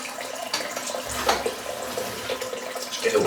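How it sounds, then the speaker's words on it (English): Tap water runs steadily into a bathroom sink with a continuous splashing rush, close and fairly loud, with no voices over it. "I'm just putting a little bit of water in the sink here"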